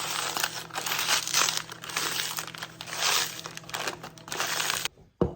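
Wet squishing and crinkly mashing sounds continue in uneven bursts, close up, then stop abruptly with a short clack at the end.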